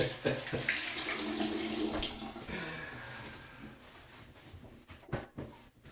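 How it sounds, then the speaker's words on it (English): Tap water running from a faucet while a hand is rinsed beneath it, a soft steady splash that thins out and breaks into a few brief knocks at the end. "let me rinse my hand"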